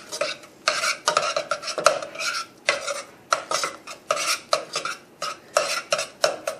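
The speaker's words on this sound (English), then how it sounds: "And then you just start mixing it all together." Macaroni and cheese gets mixed in a pot: a spoon rasps and scrapes against the metal in quick repeated strokes, loud and close, with brief pauses between bursts.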